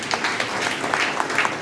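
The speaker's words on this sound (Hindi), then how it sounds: "उस संभावित नंबर के लिए एक बार इनके लिए तालियां बजा दें।" An audience at a Hindi poetry gathering claps briefly and densely, a loud steady patter of many hands with no one speaking over it.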